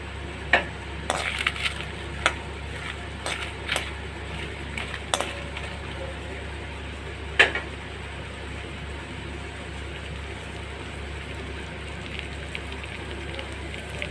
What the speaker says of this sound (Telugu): కొంచెం ఆయిల్ వేసి హీట్ చేయాలండి తర్వాత పచ్చిమిరపకాయలు ఎండుమిర్చి కూడా వేసేసి ఫ్రై చేసుకోవాలి